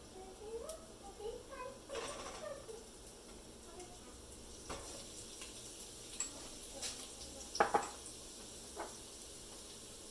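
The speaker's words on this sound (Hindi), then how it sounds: "अब मैं इसमें ये बारीक कटा हुआ लहसुन डाल रही हूँ।" Finely chopped garlic sizzles steadily in hot cooking oil in a pot, a constant crackling hiss with scattered ticks and a few light clinks of a utensil, close and even throughout.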